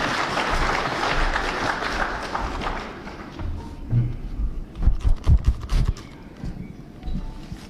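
Loud, dense audience applause at a meeting between Raila and Mount Kenya business tycoons, a steady crowd clapping for about three seconds before thinning into scattered claps, thumps and low rustling.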